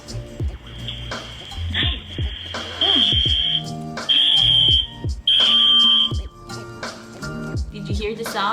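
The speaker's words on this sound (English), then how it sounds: "it also gives me an alert that the environment is too noisy" A Lollipop smart baby monitor's high-pitched noise alert alarm beeps in several sustained bursts, loud and piercing, while a person talks and shouts over it.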